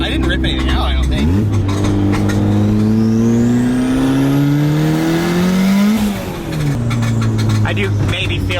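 A turbocharged Honda Civic pulls hard through the gears, engine pitch climbing steadily, dropping at a shift, then rising again, loud and close from inside the car, with people talking over it.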